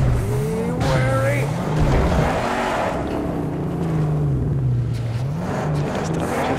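A car in the Mad Max video game drives hard, its engine revving and rising in pitch while tires squeal and skid, loud and close, with a voice talking over it.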